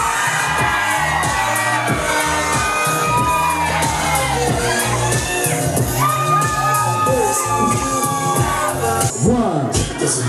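Wedding guests at a Haitian wedding cheer, whoop and shout together in a loud, continuous crowd roar, with children's shrieks rising over the din throughout.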